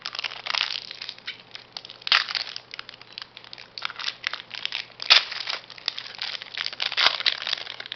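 Wrapper of a Polish fruit bar being torn and crinkled open, a dense run of loud crackling, crunching packaging noise for several seconds with sharper bursts throughout.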